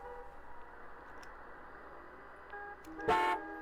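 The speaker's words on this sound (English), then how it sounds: "A loud honk from behind jolts him back into focus." A single loud car horn blast from behind cuts sharply through steady low traffic rumble near the end, close and brief.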